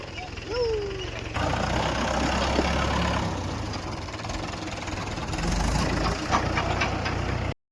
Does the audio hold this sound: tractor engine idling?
yes